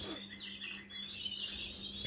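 Faint, thin chirping from young pigeons at weaning in a breeding cage, with soft irregular peeps over a low steady hum and background room noise.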